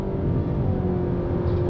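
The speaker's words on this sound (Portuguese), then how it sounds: "O motor vai lá em cima" A 2023 Nissan Sentra engine revs high during a highway overtake, a steady droning whir heard from inside the cabin, loud and sustained without letup.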